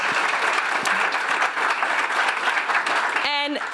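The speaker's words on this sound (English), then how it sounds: "Please give a round of applause" Applause from a conference audience at a leaders' plenary session fills the room, a dense steady wash of clapping that holds loud throughout, with a voice briefly rising at the very end.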